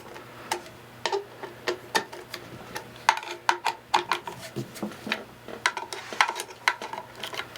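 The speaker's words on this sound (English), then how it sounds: "I'm going to even click like a torque wrench." A torque wrench clicks repeatedly while tightening bolts on an Aqua-Flo Flo-Master XP2 spa pump during repair: sharp, close clicks in an uneven rhythm over a faint low hum.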